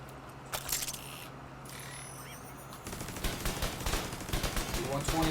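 Rapid turret fire in a video game, a dense stream of clicking shots that grows louder and busier partway through, under steady background hum.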